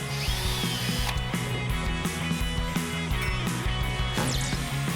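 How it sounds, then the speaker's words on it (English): A power drill whirs steadily and loudly up close, its pitch shifting as it bites in, with brief pauses and clicks between bursts. "Crazy drill. It's powerful."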